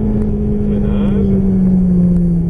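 Ferrari F430 accelerating on a track during a driving course, a loud, close engine drone climbing steadily in pitch for a couple of seconds with no talk.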